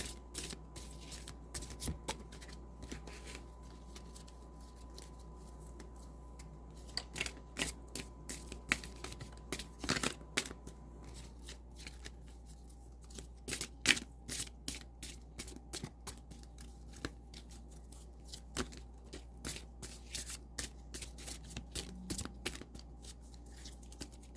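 A deck of tarot cards is shuffled in many quick, crisp flicks and riffles, close and soft over a quiet low hum, with brief pauses between bursts and no talking.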